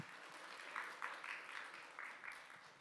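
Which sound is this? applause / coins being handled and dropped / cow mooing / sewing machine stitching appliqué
applause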